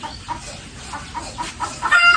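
A chicken clucks several times in short, quick bursts close by, ending with a slightly louder squawk.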